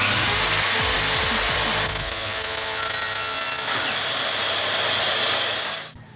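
Power tool cutting a 4 mm plywood sheet for a DIY circle-cutting jig, a loud continuous whine and rasp of blade on wood that runs steadily and winds down at the end.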